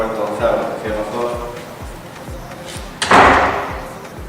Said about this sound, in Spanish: Comprobamos que la puerta no se abre, que cierra sola.